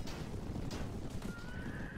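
A horse neighs in the Mount and Blade medieval battle game, a faint rising whinny at the end over a constant wash of loud battlefield noise and hoofbeats.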